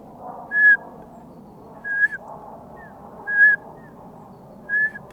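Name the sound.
human whistling imitating a bird call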